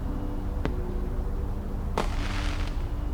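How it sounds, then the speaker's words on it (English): Fireworks burst over a steady ambient bed in the video game Old Skies, two sharp cracks spaced apart, the second followed by a brief crackling shimmer, heard at a distance. "The fireworks will be over soon."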